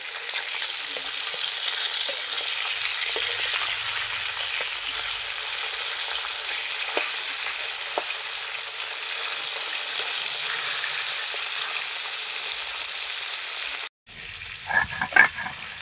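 Tilapia fillets fry in a pan of hot oil, a steady loud sizzle and crackle running throughout with a few soft clinks as the pieces are turned, then a brief break before more handling noise near the end.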